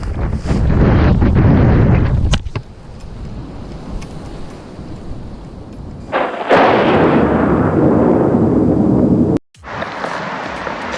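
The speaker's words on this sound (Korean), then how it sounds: "바람 또 불어요" Strong wind buffets the microphone outdoors on a bass fishing trip in loud, rumbling gusts. It eases briefly in the middle, then roars back, with no talking.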